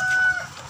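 Chickens clucking at a poultry market in Karanganyar, a brief burst of close, loud cackling over market background noise.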